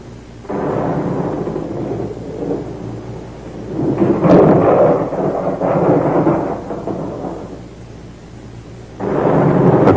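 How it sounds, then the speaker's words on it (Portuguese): Thunder rolls through a rainstorm in long, loud, rumbling bursts, one early swell, a heavier crash in the middle and another rumble at the end, with rain steady underneath. "Tempestade."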